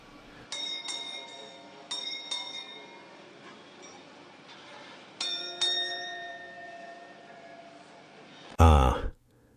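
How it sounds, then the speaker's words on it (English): Bells chime gently at a night market: several bright, ringing strikes in small clusters, each decaying slowly against quiet ambience, before a sudden loud clattering burst near the end. "The soft murmur of voices and the gentle chiming of bells."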